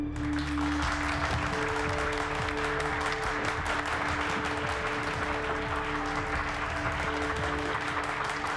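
A TV magic show audience claps for a young woman volunteer coming on stage, a dense, steady wash of applause lasting several seconds at moderate distance, with a faint tonal hum underneath.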